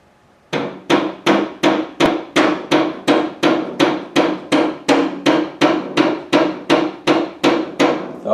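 A hammer drives a spacer into the rear swing arm of a GS550 cafe racer motorcycle build, striking about twenty loud, evenly spaced metallic blows close up with no talking.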